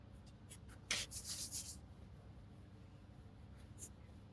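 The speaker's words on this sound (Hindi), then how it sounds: "चलिए इसको मिटाएं।" Writing being erased from a classroom board: a quiet cluster of scrubbing rubs, a short burst of several strokes, then a couple of faint lone wipes, with no talk.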